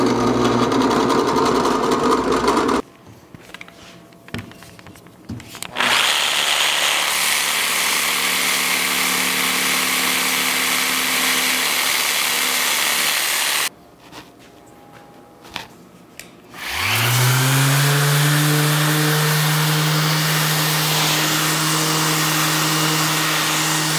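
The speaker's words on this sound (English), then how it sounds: "I got a Forstner bit set up, just big enough to get my cords and things through." A Forstner bit bores cord holes through a wooden office shelf in two long, steady whirring runs, each separated by a short quiet pause, with the motor winding down and then spinning back up loudly.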